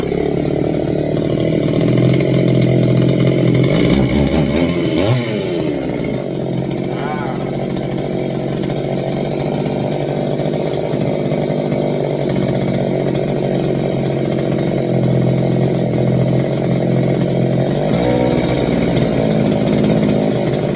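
A Redmax Zenoah chainsaw engine idles a little low, holding a steady, loud, continuous drone from start to finish, with a brief rev swell early on and a voice talking over the engine.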